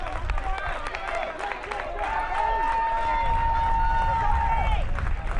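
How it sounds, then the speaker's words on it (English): Home crowd of Panther fans at a high school baseball quarterfinal, a steady babble of cheering and voices with scattered shouts and whistles, lively and sustained. "now you can hear the Panther crowd gaining some life"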